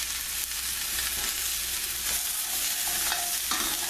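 Vegetables for a beef rib and navy bean stew sizzle and fry in a pot while being stirred, a steady bright crackle with occasional scraping strokes throughout.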